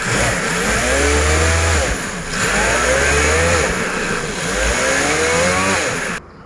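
A Mazda CX-5 engine, just fitted with new engine mounts, is revved repeatedly: three loud, close rises and falls in pitch as the throttle opens and closes, then a sudden drop at the end.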